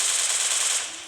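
Rapid automatic gunfire from a shooting video game rattles in a dense, continuous burst for about a second, loud and close, then trails off.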